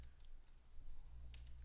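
Soft, quick keyboard typing in short bursts of clicks with a pause between, set against a steady low hum.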